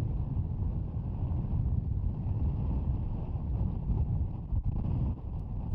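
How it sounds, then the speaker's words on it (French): Strong wind roars continuously across an open football pitch during a women's first-division match between Guingamp and Reims, buffeting the microphone with a dense, unbroken rumble. "Et vous voyez ce vent incroyable."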